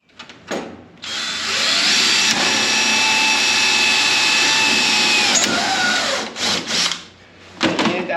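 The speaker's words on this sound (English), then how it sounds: "let's drill some holes" A power drill whines steadily for several seconds at close range, drilling holes for a fan shroud on a street stock race car, with short bursts of drilling before and after the main run.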